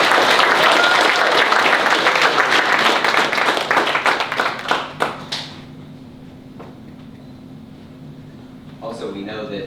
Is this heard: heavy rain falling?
no